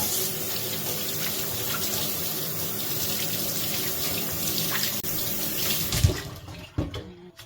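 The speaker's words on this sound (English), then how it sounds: "I'm going to try some hot water right now." Hot water runs steadily from a kitchen tap, a constant broadband gush that stops abruptly near the end, followed by a couple of faint clunks.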